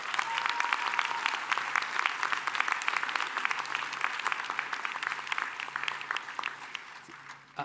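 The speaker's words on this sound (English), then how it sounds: "How about a round of applause for the parents and loved ones?" Sustained applause from a large crowd at a commencement ceremony, dense and steady throughout, tapering slightly near the end.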